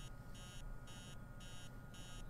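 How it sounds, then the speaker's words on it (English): An alarm clock rings in the horror video game Emily Wants To Play Too, sounding as a steady series of sharp, high electronic beep bursts in an even on-off rhythm, loud and close over a dull low rumble. "The alarm clock is so annoying."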